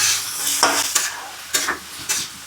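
A spoon scraping and stirring food frying in an old kadai with salt, turmeric and garlic, several quick scrapes over a soft, steady sizzle, close and fairly quiet.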